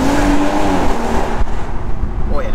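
A 2018 BMW M140i with a double resonator delete accelerates from inside the car, a loud engine and exhaust note rising briefly and then easing off, with some wind noise.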